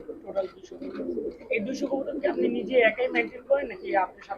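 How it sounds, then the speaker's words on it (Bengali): Pigeons from a flock of about two hundred coo softly in the background while someone talks over them almost continuously. "টোটাল দুশো কবুতর আছে"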